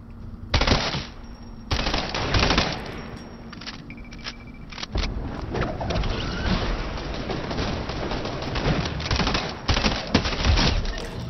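Rapid bursts of assault rifle and SMG gunfire in the Fortnite video game, loud and close, with sharp volleys and dense automatic fire running almost continuously under game effects, no voice.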